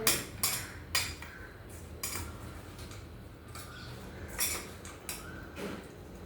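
A spoon stirring and mixing food in a metal pot, with repeated clanking scrapes against the sides in an uneven rhythm over a faint background hum, close and moderately loud.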